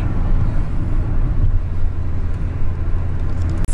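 Road traffic on a South African road trip rumbles loudly and continuously, a heavy low engine and road drone close by, with no speech over it.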